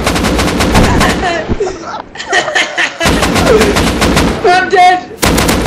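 Rapid bursts of gunfire in the Rust survival game, loud close shots in clustered volleys broken by brief pauses, with excited voices shouting and laughing between the bursts.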